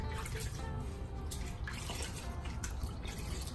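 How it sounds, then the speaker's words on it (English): Water rinses through hair locs during an apple cider vinegar rinse, a steady close-up rush of running water that continues without a break. "Just rinsing, making sure the water goes through."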